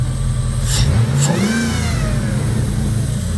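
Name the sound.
2002 Jeep Grand Cherokee 4.7 engine running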